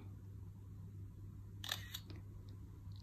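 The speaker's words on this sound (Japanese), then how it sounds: "こちらがシャッターになります。" A smartphone camera app's shutter fires once as a photo is taken, a short crisp click in a quiet room with a faint steady hum underneath.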